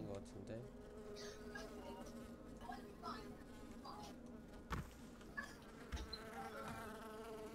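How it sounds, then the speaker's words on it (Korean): A housefly buzzes close by in a game scene, a steady droning hum with a few brief louder bumps over a busy background. "아, 파리 소리."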